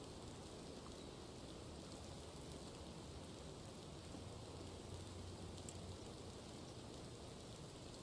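Steady rain falls in a hunting video game, a dense, even hiss of rainfall that continues unbroken at a soft level with no voices.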